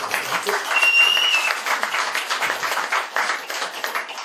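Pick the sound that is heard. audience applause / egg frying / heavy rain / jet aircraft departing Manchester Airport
audience applause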